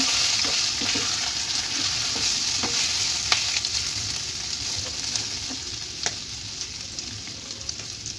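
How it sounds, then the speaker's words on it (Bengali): Grated ginger fries in oil in a pan for a Bengali cauliflower roast, giving a continuous close sizzle with occasional clinks and scrapes of stirring. "আদাটা একটু ভালোভাবে এতে ফ্রাই করে নেব"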